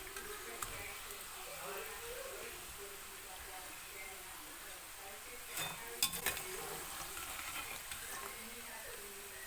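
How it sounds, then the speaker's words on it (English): Masala-coated peanuts fry in a pan over a medium flame, giving a steady low crackling sizzle throughout with a few sharper clinks and scrapes near the middle; faint background voices can be heard. "you have to fry this in a medium flame, and you will get a nice coating everywhere"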